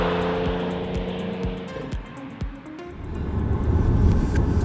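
A 2015 Audi S4 under way, its engine note and road rumble steady with periodic thumps, building to a louder, rougher roar toward the end; no talking.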